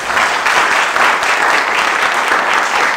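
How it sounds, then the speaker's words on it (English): Steady, dense applause from a quiz show studio audience, loud and continuous with no talking over it. "give him a round of applause."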